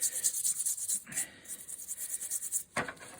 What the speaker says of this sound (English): I shall give it a rub with the steel wool